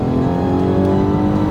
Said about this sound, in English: It's not as terrible on fuel as I thought. I mean, it is a V12 with twin turbos, and it does push you along.